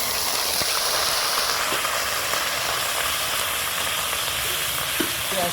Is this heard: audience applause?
no